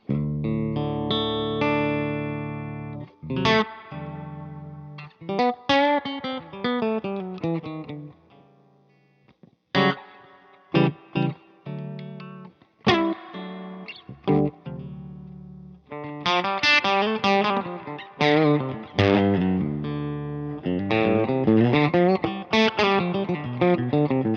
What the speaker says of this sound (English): this is what the bridge pickup sounds like. Clean, no pedals.